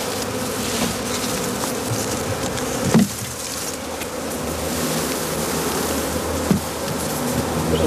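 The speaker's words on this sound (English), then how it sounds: "As dusk approaches, the bees are introduced to the hive." Bees swarm into a hive at dusk, a dense, steady buzzing drone that fills the whole stretch, with two sharp knocks partway through.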